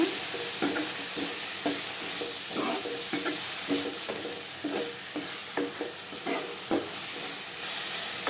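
Drumstick leaves are stirred and sautéed with softened tomato for murungai keerai sambar, a steady close sizzle punctuated by rhythmic spatula scrapes and knocks against the pan, with no talk.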